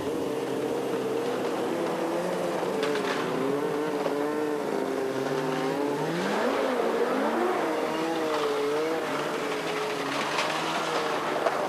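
Several snowmobiles set off at the start of a race in Finland, engines revving and whining loudly with rising and shifting pitch as they accelerate away, continuous throughout.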